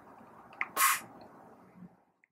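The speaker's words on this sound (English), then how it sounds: "just press it in and it will clip into position" A power plug snaps into place inside a conical coffee grinder chassis, a faint small tick followed by a sharp, bright click close by in a quiet room.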